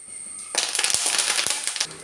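Sudden burst of loud crackling and spitting as curry leaves and dried red chillies hit hot oil, sharp pops crackling over a bright hiss for about a second and a half.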